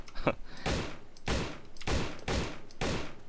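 Gunfire at zombies in the video game Darkest Days, a rapid series of about five booming shots at regular intervals, loud and close with no talk.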